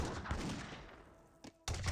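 Musket volleys from Age of Empires 3 battle: a broad burst of gunfire crackles at the start, then after a lull two sharp shots ring out near the end, loud and close.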